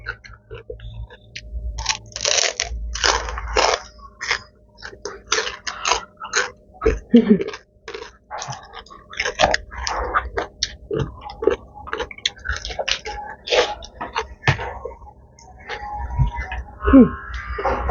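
Someone eats crunchy green papaya salad, with close, wet crunching and biting repeated irregularly for about eighteen seconds, broken by small mouth noises and pauses.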